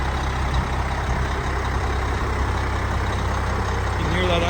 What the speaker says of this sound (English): You can hear that M11 Cummins.